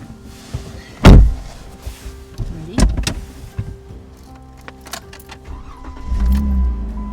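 Near a parked car on a remote Quebec road trip, a loud car door thump opens the sequence, followed by sharp clicks and the low whir of a power window motor sliding down, with a rumble near the end.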